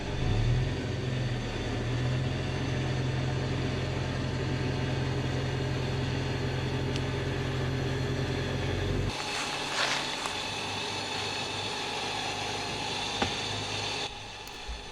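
A winch drags a Subaru Forester in on a double line pull through a snatch block, a steady low motor drone for about nine seconds, then a lighter whirring strain with faint clicks until near the end.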